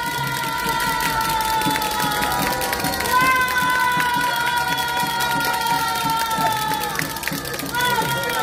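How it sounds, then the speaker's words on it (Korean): A crowd at a doctors' rally outside the presidential office applauds and cheers, a continuous mass of clapping and shouting with tonal voices or noise running through it. "큰 박수 부탁드립니다."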